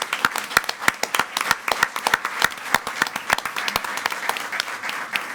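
Audience applause at a school board meeting for a newly introduced coordinator of specialized programs: a modest crowd claps steadily for about five seconds, with sharp individual claps standing out clearly and no talking.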